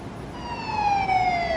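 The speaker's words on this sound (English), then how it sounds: "Police sirens." A police car siren wails steadily and loudly, its tone sliding gently downward as it carries on without any talking over it.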